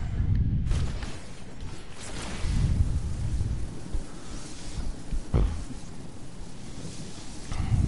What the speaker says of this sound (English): A storm's coming.